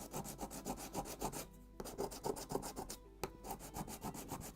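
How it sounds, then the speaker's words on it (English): A sanding block rubs back and forth over the wooden bulkheads of a 1:76 scale Mayflower model ship kit, giving steady close rasping strokes with brief pauses and no talk. "So I can use my sanding block here too."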